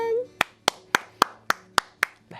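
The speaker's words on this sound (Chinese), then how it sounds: "掌声！" Eight claps land in an even, steady rhythm during a television variety show, crisp and close with only a faint hum between them.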